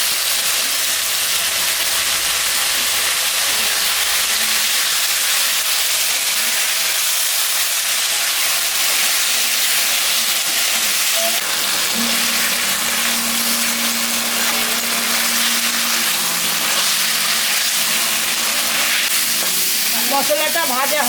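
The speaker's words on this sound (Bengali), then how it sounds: "মশলাটা ভাজা হয়ে গেছে, কষানো হয়ে গেছে তরকারি।" Spices frying with tomato and green and red chillies for a fish curry, a steady close sizzle and hiss running throughout, with a brief low hum partway through.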